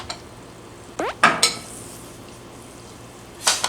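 Stir-frying in a pan for a steak sauce with garlic and vegetables: a steady low sizzle with a few sharp scrapes and clinks of a utensil against the pan, close and fairly quiet.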